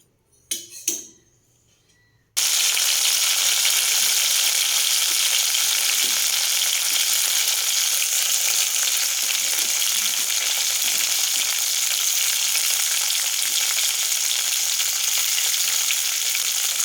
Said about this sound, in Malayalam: അപ്പോൾ ഞാൻ എണ്ണ ചൂടായിട്ടുണ്ട് ഇതിലേക്ക് നമുക്ക് കുറേശ്ശെ ഇട്ട് കൊടുത്ത് ഫ്രൈ ചെയ്ത് എടുക്കാം